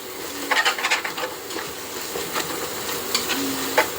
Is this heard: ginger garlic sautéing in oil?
yes